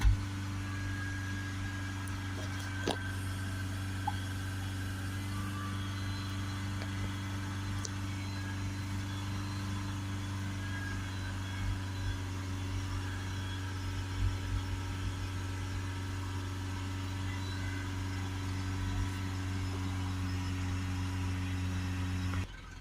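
Mitsubishi Outlander 2.3 diesel engine held at steady raised revs during a particulate filter check, giving a constant low drone with faint mechanical hum, unchanging and fairly quiet, with no voices.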